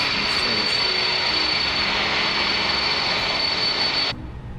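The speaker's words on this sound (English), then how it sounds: "I don't recall the airplane sound like a hairdryer before" A steady, loud jet engine roar with a thin high whine from an Airbus A320 in a flight simulator holds constant, then abruptly cuts away near the end.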